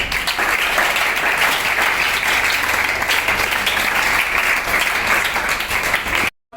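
A crowd of girls at a school education event clapping, dense sustained applause filling the whole stretch at steady loudness before cutting off abruptly at the end.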